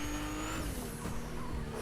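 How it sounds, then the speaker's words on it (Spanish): Engines of the new cars in the Fortnite Mobile video game hum and drone steadily up close as they drive, with a faint whine shifting in pitch and no talking. "Estos son los nuevos carros"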